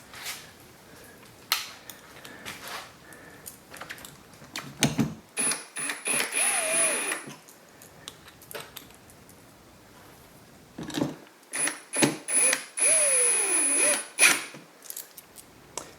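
A power driver sends screws back into a repair plate behind a boat's bolster seat, in two whining bursts of a few seconds each, set between scattered clicks and handling knocks.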